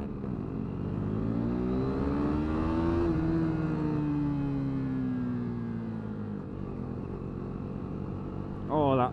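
Motorcycle accelerating hard in second gear, heard close as a steadily climbing engine note that rises to a peak, then eases and settles, with a short burst of noise at the very end.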